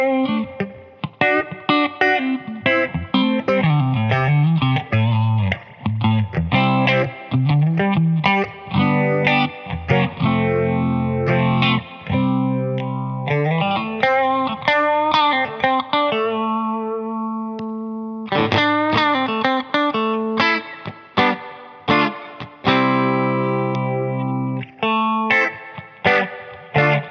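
A Warm Audio Mutation Phasor II, a six-stage phaser pedal, sweeps over a played instrument line, giving a loud, chewy, swirling tone with a steady moving sweep, with one brief pause midway.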